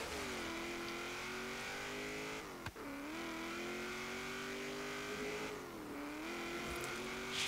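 A 1970 Chevrolet El Camino Super Sport muscle car on an autocross course, its engine droning loudly and continuously, pitch dipping briefly as it lifts and then climbing again between gear changes, with no talk.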